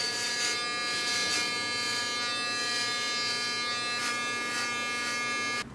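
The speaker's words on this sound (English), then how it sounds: "I have a tendency to be able to see the streaks where the clippers go" Electric hair clippers buzz steadily while shaving a head for a buzz cut, a close, continuous high-pitched hum with slight pulses as the blades pass over the scalp.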